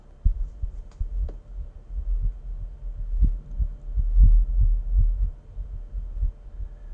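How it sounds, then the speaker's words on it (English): A synthesized heartbeat-like pulse from an Omnisphere software synthesizer thumps low and steady, a soft double-beat rhythm repeating over a faint sustained hum. "If you can hear that, it's kind of like a heart beating thing."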